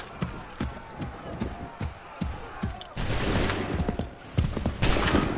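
Volleys of musket fire crack out in Assassin's Creed 3, sharp separate shots in the first half giving way to a dense, sustained roaring fusillade with several overlapping bursts, loud and close.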